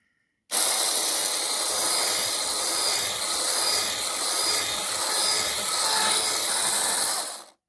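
A steady, hissing whir from an electric mixer beating a whole egg starts abruptly, holds at an even level, then cuts off.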